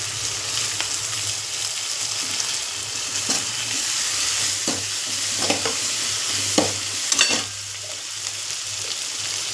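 Soya chunks and tomato with turmeric and salt frying in a pan, a steady close sizzle with a spoon stirring and scraping in irregular strokes, a few louder knocks near the end; no talking.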